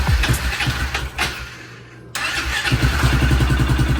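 A rebuilt Raptor Power Wheels truck engine cranks and catches, then settles into a loud, steady, fast idle after a brief pause.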